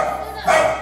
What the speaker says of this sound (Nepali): कुकुर चाहिँ कराको कराइ कराको कराइ छ